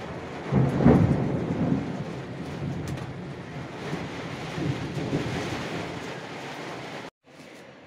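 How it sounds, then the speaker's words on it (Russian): A heavy downpour roars steadily with thunder rumbling low and close, a loud rolling crack early on, the rain hiss continuing throughout before a brief dropout near the end. "Вот это ливень. Вот это сверкает."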